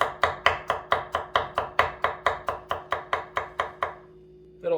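Thin slices cut through four garlic cloves with a knife, sounding as a steady run of about fifteen crisp, evenly spaced chops on a board, close and clear, then a brief pause and one last tap.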